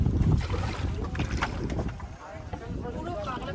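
Small boat crossing a river, water sloshing and rushing steadily against the hull with wind buffeting the microphone, continuous and close, while people talk over it.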